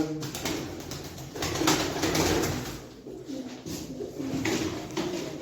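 Pigeons, including young birds from a Turkish fancier's loft, coo steadily and fairly close, their throaty calls overlapping without pause beneath a faint airy background.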